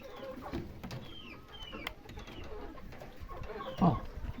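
Soft, low pouter pigeon coos murmur faintly amid quiet rustling and background noise, with one clearer coo near the end.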